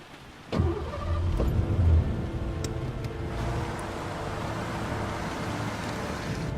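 A car engine in the video game Heavy Rain starts up and runs steadily, a loud continuous rumble that swells early and then settles into an even drone, with no talk over it.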